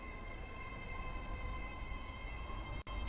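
A five-coach passenger train departs in a video game, heard as a quiet, steady mechanical hum with thin sustained whining tones and a brief dropout near the end.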